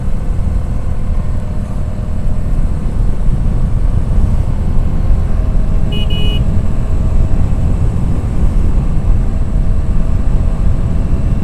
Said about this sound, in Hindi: बड़ा मज़ा आता है इस रोड पे गाड़ी चलाने में